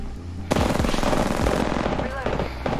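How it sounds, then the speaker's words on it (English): Rapid automatic gunfire from a distant firefight between other squads in the battle royale video game Apex Legends, bursts of shots rattling on steadily with a few sharper reports near the start. "Oh, yeah, they're shooting each other. They're fighting."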